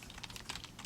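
Keys on a computer keyboard are tapped in a quick, irregular run of soft clicks, faint and close by, with no talking.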